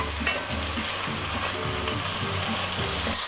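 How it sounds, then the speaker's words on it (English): Diced bacon frying in a pot over medium heat, giving a steady, close sizzle and crackle with small pops and occasional stirring scrapes throughout, no voices. "So we're just going to cook this bacon over this medium heat"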